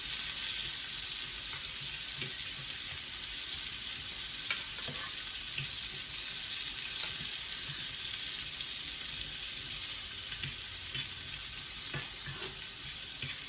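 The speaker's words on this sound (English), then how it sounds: "now I'm gonna cook onion a little bit, like in here with the meat" Onion and beef fry in a pan over medium heat for Cambodian lok lak, giving a steady, dense sizzle with faint crackles throughout and no talking.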